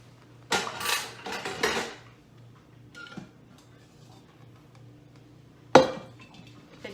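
A metal pressure cooker pot is handled while chicken broth is strained. A few clanks and clinks come close together, then softer knocks follow, and one sharp clank lands near the end in a quiet kitchen.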